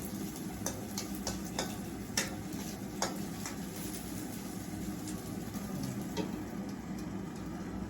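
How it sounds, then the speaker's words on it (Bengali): Food cooking in a pot for chepa shutki bhorta being stirred, a low steady simmering bubble with scattered light ticks and scrapes of a utensil, quiet and close with no talk. "আমি একটু নাড়াচাড়া দিয়ে দিই, এক জায়গায় থাকলে তো সিদ্ধ হইব না ভালো করে।"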